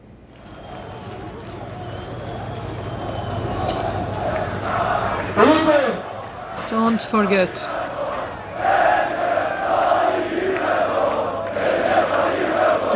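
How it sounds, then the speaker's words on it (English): Thousands of supporters of Turkish President Recep Tayyip Erdogan chant together in a loud outdoor rally, rhythmic shouted bursts rising over a steady crowd roar, with a voice speaking over them. "The crowd is chanting Recep Tayyip Erdogan."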